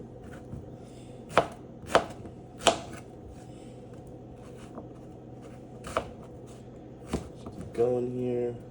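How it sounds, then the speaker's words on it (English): Zucchini is roughly chopped with a knife on a board, giving a handful of sharp, close chops spaced unevenly, some quiet shuffling in between, and a voice speaking briefly at the end. "This is all just real rough chops."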